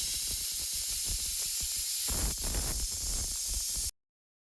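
A pressure cooker releases steam in a loud, steady hiss with surging rushes partway through, then cuts off abruptly to silence.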